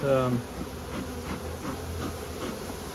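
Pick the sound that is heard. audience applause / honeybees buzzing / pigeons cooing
honeybees buzzing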